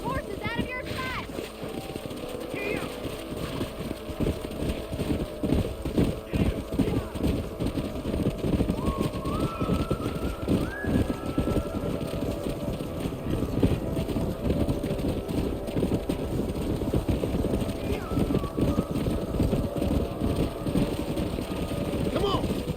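Galloping horse hooves in the Western video game Red Dead Redemption, a rapid continuous drumming over a busy outdoor mix with music, steady and fairly loud, with voices talking over it.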